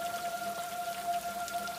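Steady rain falls at night in an animated Hindi horror story, a soft, even patter throughout with a faint, sustained tonal hum beneath it and no voices.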